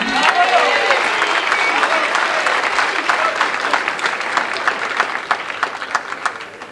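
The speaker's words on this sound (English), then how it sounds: "Big round of applause, if you will, for Mr. Andy Dobson." Spectators at an R/C car race applaud in a broad, continuous wash of clapping that lasts several seconds and thins toward the end, with an announcer talking over it.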